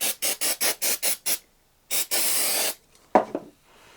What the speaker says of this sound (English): let's move this before we start spraying the activator.